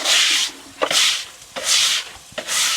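A broom fitted with a hose attachment scrubs a stone front step, giving three rough, bristly strokes in an even back-and-forth rhythm, close and loud.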